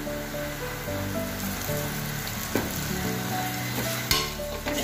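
Spice powders fry in coconut oil in a small cooker for a homemade mushroom curry, a continuous close sizzle with soft stirring and a couple of sharper scrape clicks, with no talking.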